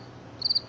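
Crickets chirp in a brief burst of three quick, high pulses that stand alone over a faint, quiet background.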